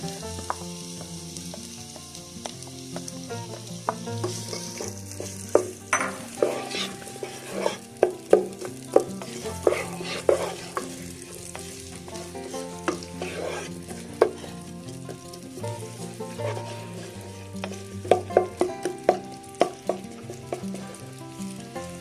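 A large onion frying in a pan and being stirred repeatedly to soften without browning, steady sizzle under frequent scraping strokes, with some background music.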